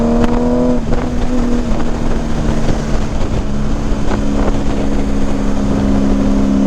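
A 2018 Honda Goldwing Tour fitted with Shark Road mufflers pulls at full throttle, a loud steady exhaust roar with rising harmonic tones, heavily mixed with wind buffeting on the microphone throughout.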